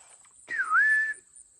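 A single clear whistle outdoors in nature, rising then holding a steady tone for about half a second, moderately loud against a quiet background.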